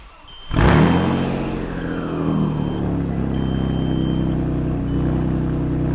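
A C5 Audi Allroad engine catches and revs up sharply, then settles into a deep, steady idle rumble close by.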